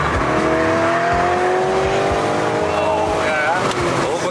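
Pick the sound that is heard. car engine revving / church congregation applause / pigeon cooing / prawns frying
car engine revving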